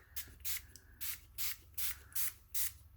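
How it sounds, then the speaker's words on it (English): Spray paint hisses onto a stencil in seven short bursts of roughly a third of a second each, evenly spaced and close by, over a low background hum. "So I'm just gonna shake and take my spray."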